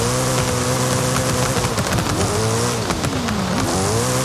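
Four-wheel-drive rally car racing through canyons on the Goliath course in Forza Horizon 5, its engine loud and close with a steady roar, revving and dipping in pitch between gear changes.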